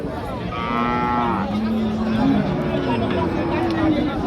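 Cattle, including dairy cows and calves, moo in long, low calls amid a noisy crowd with people talking in the background at a busy cattle market in Chaugachha, Jessore, Bangladesh.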